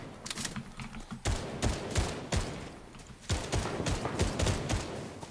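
Sniper rifle fire in a Fortnite squad match: a rapid string of sharp, loud cracks in irregular bursts. The shots cluster into dense volleys with brief gaps between them.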